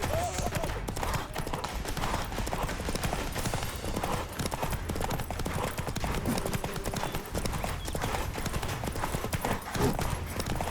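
Hooves of Roach the horse in The Witcher 3 pound in a fast, steady gallop from start to finish, close and continuous, with a voice speaking briefly over the clatter.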